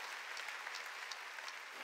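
Congregation clapping during a church worship service, a faint, steady patter of many hands heard from a distance, continuous with no talk over it.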